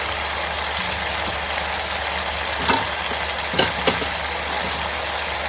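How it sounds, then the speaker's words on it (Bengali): Mutton frying in a pan with turmeric and chilli powder, a loud, dense, continuous sizzle heard up close with a few faint stirring scrapes. "মটনটাকে এখানে ভাজা ভাজা করে নিয়েছি"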